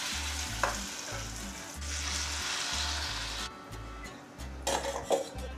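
Ridge gourd fritters (jhinge bora) fry in hot oil with a steady close sizzle, broken by a few clinks of a utensil against the pan and a brief quieter gap before the sizzling swells again.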